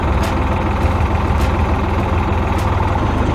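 A farm tractor idles steadily nearby, a continuous low diesel chug with a few faint clicks on top and no talking.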